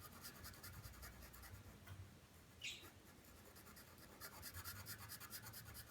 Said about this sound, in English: They're a bit scratchy